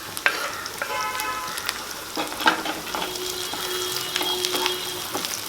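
Chopped small and large onions with garlic sautéing in a pan of oil, with a steady, close sizzle broken by repeated stirring scrapes and clicks throughout.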